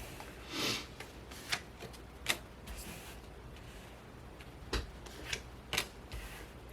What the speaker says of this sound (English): I'm going to go ahead and lay out the cards.